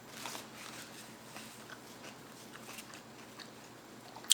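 Close, soft biting and chewing of a folded avocado ranch wrap eaten like a taco, with moist crunchy crackles and a sharp snap at the very end, no talking.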